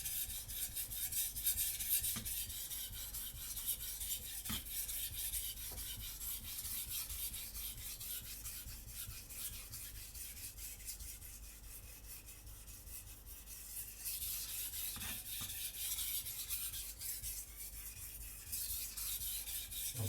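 A Takamura Migaki R2 gyuto knife is drawn across a whetstone in steady, continuous scraping and rasping strokes, close and fairly quiet, with no talking.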